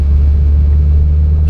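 Honda-powered Toyota MR2 launching off the line at 4,500 RPM, a loud, close, deep engine rumble held steady for a brief moment with no voices.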